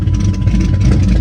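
A car engine idling with a steady, low, close rumble right after firing up, no voices over it.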